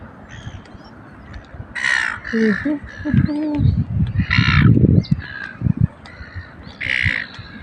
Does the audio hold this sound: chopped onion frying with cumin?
no